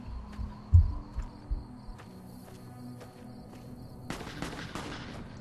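Enemy gunfire in Fallout: New Vegas comes as scattered sharp shots, a few heavy thumps early, then sparse cracks and a denser rattling burst near the end, moderately quiet overall.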